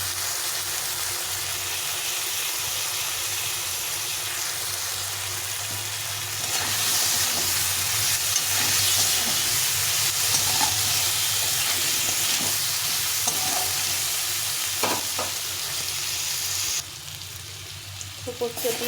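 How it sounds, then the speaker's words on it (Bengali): Ground poppy seed paste fries with potatoes in a pan, giving a steady loud sizzle throughout, broken by occasional scraping stirs and clinks near the end. "তো পোস্তটা দিয়ে একটু নাড়াচাড়া করে নিয়েছি, বেশি ভাজলে ভালো লাগবে না।"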